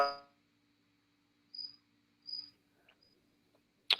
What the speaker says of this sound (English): We can hear your cricket though.